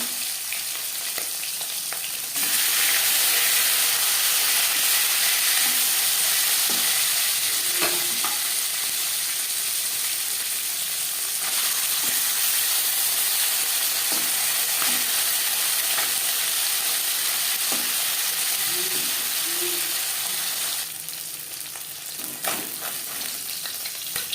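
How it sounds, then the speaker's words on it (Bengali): Marinated tangra fish frying in hot mustard oil, a loud continuous sizzle and crackle throughout with occasional spatters, softening briefly near the start and end. "চার চামচ সর্ষার তেল গরম করে নেওয়ার পর দিয়ে দেবো ম্যারিনেট করে রাখা মাছ"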